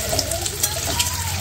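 Eggs fry in a pan with a continuous crackling sizzle, close and steady throughout a short stretch with no talking.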